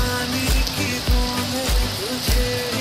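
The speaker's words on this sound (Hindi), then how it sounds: "तो आज सुबह सुबह बारिश स्टार्ट हो गया" Morning rain falling over a village, a steady broadband patter close by, with a recurring low thumping and a faint tonal hum running underneath.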